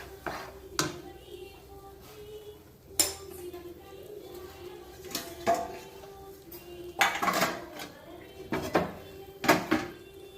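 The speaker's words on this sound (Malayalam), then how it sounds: "സ്റ്റൗ ഓഫ് ചെയ്തിട്ട് നെയ്മയം പുരട്ടിയ ഒരു പാത്രത്തിനകത്തോട്ട് ഇത് മാറ്റാമേ" Peanut burfi mixture scraped out of a pan into a ghee-greased vessel, with scattered metallic clanks and scrapes of utensils against metal, spaced irregularly, with a voice talking in between.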